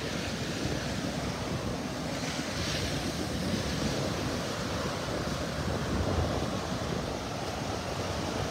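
Ocean surf washes steadily onto the beach at North Hutchinson Island in Vero Beach, Florida, with a constant breeze rushing across the microphone, a broad continuous wash without distinct wave breaks.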